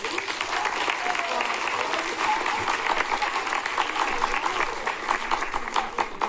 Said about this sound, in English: If we can get one more round of applause for Dr. Schmeller too.